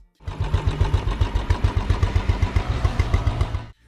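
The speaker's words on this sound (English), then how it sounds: "The thump of the long-stroke single-cylinder engine creates a distinctive" Long-stroke single-cylinder motorcycle engine of about 350 to 500cc, a close, loud, steady thumping beat at an even rhythm that rises in and cuts off after a few seconds.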